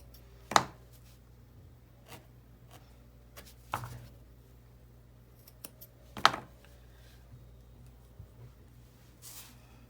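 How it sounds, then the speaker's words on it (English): Scissors snipping wool for a felted painting in a craft studio: a few sharp, faint snips spaced several seconds apart over a quiet room hum. "I'm gonna snip this off."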